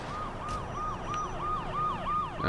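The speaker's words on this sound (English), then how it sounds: "That's a police car, we do not want to be screwing around with those." Wailing police car siren from the video game Saints Row 2, rising and falling in steady repeated sweeps at moderate loudness for over two seconds, with a louder burst of noise at the very end.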